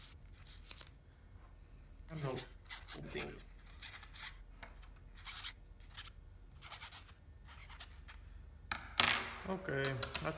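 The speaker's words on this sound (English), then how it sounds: "Sand these edges because these are not looking very good now." Rasping strokes of sandpaper or a file smoothing the rough edges of small plastic model kit pieces, in short bursts of rubbing close by, with a brief voice near the end.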